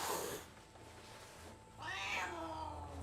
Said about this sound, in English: that's a really loud cat